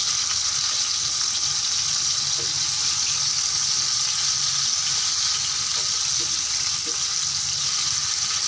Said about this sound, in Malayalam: നമുക്കിപ്പോൾ ഇത് ഷാലോ ഫ്രൈ ചെയ്ത് കൊണ്ടിരിക്കാം